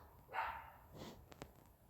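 A single soft video game dog bark in Roblox, followed by a few faint clicks, quiet and somewhat distant with light background noise.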